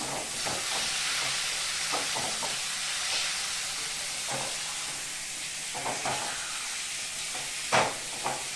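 Dried red chili paste with ginger is stirred in a pan over a constant hissing sizzle, with occasional soft scrapes and a louder clank near the end.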